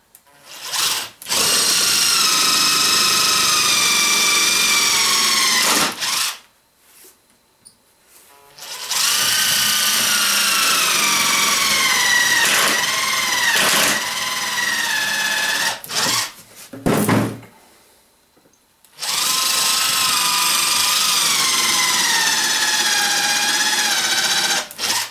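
A cordless power drill drives screws into a wooden ammo box, three long loud whirring runs with pitch wavering as each screw seats, separated by short pauses, close up with no talk.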